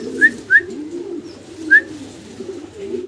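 A pair of big Modena pigeons coos in low, continuous rolling phrases nearby, punctuated by three sharp, loud high chirps from other birds, with no talk.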